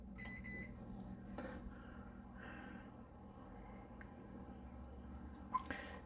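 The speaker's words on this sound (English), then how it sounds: "You can see the microwave's running." A microwave oven hums steadily, powered by a solar generator alongside a running refrigerator. The drone is quiet and continuous, with a few faint clicks and knocks near the end.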